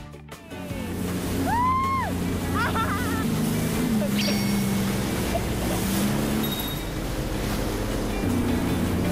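A fast motorboat roars across the water, its engine droning steadily while spray and splashing surf rush past, loud and close, with wind noise and a few excited voices under it.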